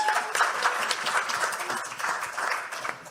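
An audience applauds at a talk on independent, non-legacy political parties, steady dense clapping at moderate volume throughout, with no voices over it.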